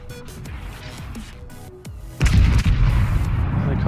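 Battleship guns fire in the naval video game World of Warships, a heavy booming salvo that hits hard midway and rolls on in a loud, rumbling blast, following quieter game ambience and smaller thuds.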